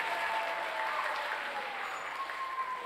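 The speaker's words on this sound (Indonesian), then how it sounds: "Oke, tepuk tangan buat kita semua." Audience applause at a business seminar, a steady dense wash of clapping that holds evenly from start to finish with no voices over it.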